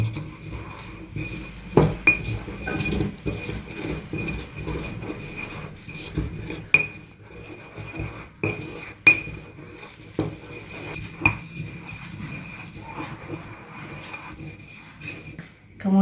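Gum arabic is ground and stirred in a mortar, producing a close, continuous gritty scraping and rubbing with irregular knocks of the pestle against the bowl.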